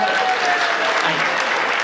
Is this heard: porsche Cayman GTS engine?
no